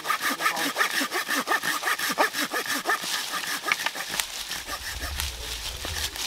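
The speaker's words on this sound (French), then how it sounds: "avec la scie on peut couper des morceaux comme ça" A hand saw cuts through wood in steady back-and-forth strokes, close and rhythmic, the rasping growing rougher near the end.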